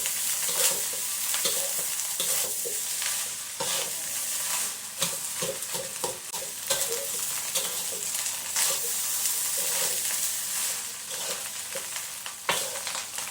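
Fried rice with sambal scraped and stirred in a hot pan, a steady bright sizzle broken by repeated clanks and scrapes of the spatula, close and continuous with no voices.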